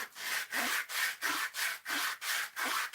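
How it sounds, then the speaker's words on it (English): Sandpaper scrapes rhythmically across a wooden candle holder in about eight even back-and-forth strokes, close up and alone, with a dry rasping texture. "I'm going to switch to actual sandpaper"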